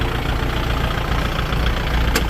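A used Kubota L4708 farm tractor's diesel engine idles close by, a loud, steady low rumble with an even throb and one brief click near the end.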